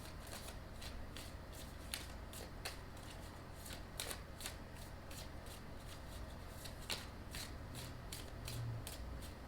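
Tarot cards are shuffled by hand in quick, rhythmic riffles, a soft repeated flutter of card edges heard close and alone against a faint background hiss.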